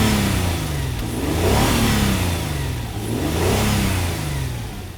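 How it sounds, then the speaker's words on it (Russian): A Nissan V6 engine revs repeatedly, its pitch rising and falling in smooth sweeps, loud and close with no talking. "И как работает двигатель Nissan."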